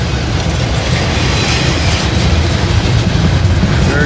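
A locomotive passes close by, a loud steady rumble of heavy engine and rolling wheels that fills the whole moment without let-up.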